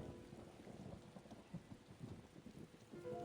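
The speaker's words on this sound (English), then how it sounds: "Man, this thunder's pretty intense, huh?" Thunder rumbles low and heavy under steady rain in the video game Tales of Xillia 2, a continuous stormy wash with a few stronger rolls.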